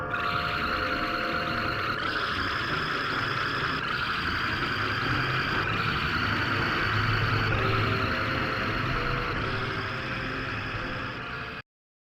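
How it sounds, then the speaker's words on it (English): Droning, grinding ambient noise from the horror video game Lost in Vivo, a dense and steady wash of harsh static-like texture with low rumble. It holds at a constant level for about eleven seconds and then cuts off abruptly, with no talk. "the ambient noise you hear throughout the game that just grinds on your eardrums"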